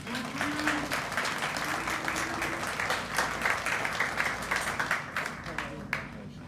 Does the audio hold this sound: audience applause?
yes